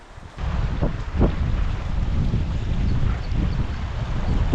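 Intense wind buffets the microphone at a Colorado marsh fishery, a constant low rumbling roar with a few stronger gusty thumps.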